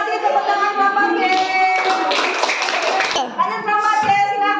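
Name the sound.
class clapping hands for a pupil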